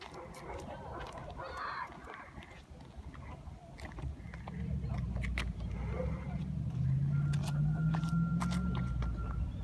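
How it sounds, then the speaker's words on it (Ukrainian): A remote-controlled Falcon 3542 carp fishing bait boat sets off on the water, its small motor rising into a steady low hum midway through, with outdoor ambience and some talk nearby. "Ставимо на воду. Включаємо пульт, включаємо кораблик, йдемо випробовувати."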